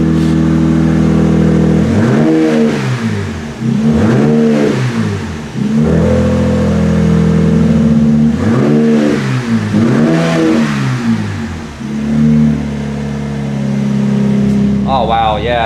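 A 2025 Rebel fitted with an AFE Power Vulcan exhaust is revved repeatedly nearby, in distinct swelling bursts that rise and fall between steadier idle stretches.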